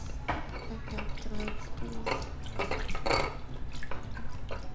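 A spoon stirs a cornstarch mixture in a container, giving a series of irregular scraping and clinking strokes with wet, sloshing texture, close and moderately loud.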